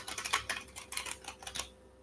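Tarot cards shuffled by hand, a quick run of crisp papery riffles and flicks in irregular bursts, close and fairly soft, ending abruptly.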